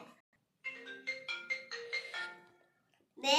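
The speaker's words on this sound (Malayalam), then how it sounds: "അച്ഛൻ വീഡിയോ കോളിൽ വിളിക്കുന്നു." A phone ringtone for an incoming video call, a short bright melodic tune of several tones rising and falling, played alone in a quiet room, with a voice starting right at the end.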